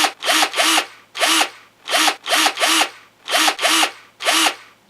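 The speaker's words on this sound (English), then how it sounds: "We're going to be using our trusty drill to be making all of our little tiny holes" Rhythmic rasping strokes of a power drill making tiny holes in wood repeat in pairs and singles, loud and close, working back and forth.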